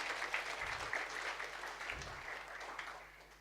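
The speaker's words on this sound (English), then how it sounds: "So please, a round of applause for him." Audience applause at a hospital gift-of-life function, a steady wash of clapping from a crowd, moderately loud and continuous, with no speech over it.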